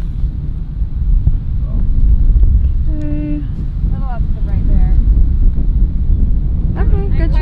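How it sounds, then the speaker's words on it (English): Steady wind roars and buffets the microphone throughout on a windy, rainy day outdoors, a loud low rumble with a voice speaking briefly over it. "Kind of windy and rainy out here."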